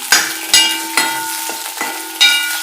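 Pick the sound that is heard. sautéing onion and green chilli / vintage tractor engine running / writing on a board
sautéing onion and green chilli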